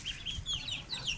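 A hen with an egg-binding problem clucks in a run of soft, quick clucks, close but fairly quiet, with no talk over it.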